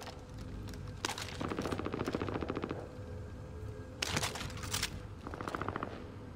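Enemy gunfire in the Warzone video game comes in rapid automatic bursts, two long volleys and a shorter third one, sharp and fairly close, with no talking over them.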